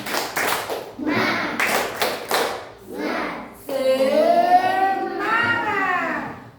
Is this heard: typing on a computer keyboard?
no